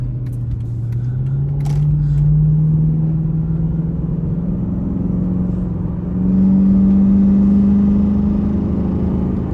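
A Chrysler 300C driving, its engine giving a loud, steady low rumble that swells slightly partway through, with no talking.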